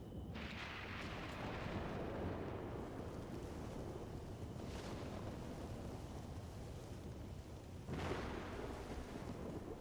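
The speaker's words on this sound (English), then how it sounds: "Ah, how foreboding, a brewing storm." A brewing thunderstorm in a video game rumbles with low thunder and steady rain, two heavier rolls standing out against the constant wash.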